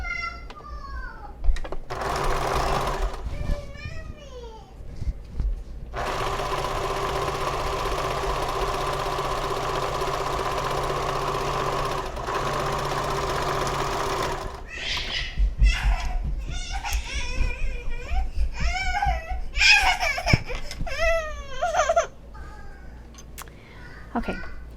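Sewing machine running a sustained close stitching pass joining bag linings, a steady mechanical whir for several seconds, framed by shorter bursts, handling clatter and a voice speaking before and after.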